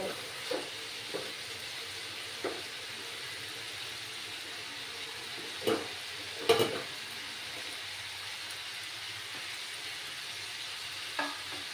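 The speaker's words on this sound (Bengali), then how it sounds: "আরও কিছুক্ষণ আমি এইভাবে নাড়াচাড়া করে নেব।" Bottle gourd peel is stirred and fried in a pan: a soft, steady sizzle with a few sharp clinks and scrapes of the spatula scattered throughout, quiet and close, with no talking.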